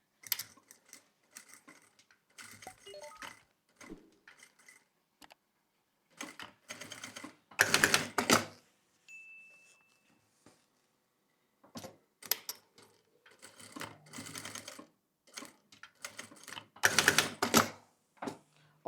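Sewing machine stitching a label onto a fabric pouch with very small stitches, heard as several short bursts of rapid mechanical clatter separated by quiet pauses, close and fairly crisp.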